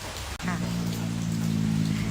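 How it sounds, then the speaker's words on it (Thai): Rain falls steadily on a cassava field, a continuous soft patter that stays even and close throughout, with a brief low hum running beneath it. "เดี๋ยวให้เพื่อนๆดูน้ำฝนในไร่มันกันนะคะ"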